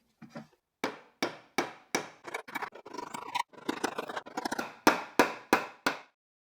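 Hammer blows driving nails into wood from the back of a glued piece, a series of sharp, evenly spaced knocks, then a cluster of quicker lighter taps, then more firm strikes, close and loud.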